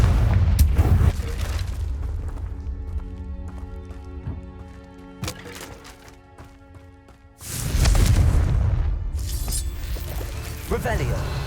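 Confringo spell blasts in Hogwarts Legacy, two loud booming bursts separated by quieter ringing ambience with sharp clicks and thuds, the second explosion landing late and rumbling on.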